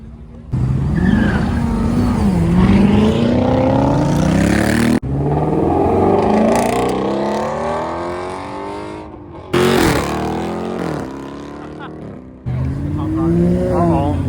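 Nissan Nismo Z sports car driving on the road at a lively car meet in Montreal, its engine revving and rising in pitch close by, with loud bursts, passes and crowd voices mixed in.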